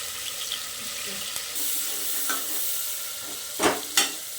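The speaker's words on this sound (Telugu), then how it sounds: "వేసేసి మంచిగా లైట్ ఫ్రైగా చేసుకోవాలి." Oil heating for a mutton curry gives off a soft, light sizzle close by, with faint stirring and two brief louder clatters near the end.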